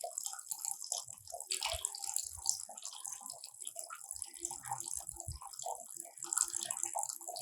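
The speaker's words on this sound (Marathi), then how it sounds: "ते पाणी आता आपण हळूहळू खाली जायला लागलेलं आहे" Water trickles and gurgles as it drains slowly out of a homemade siphon cup for a school science project, a faint, irregular splashing and dripping with small rattles, heard close with faint background voices.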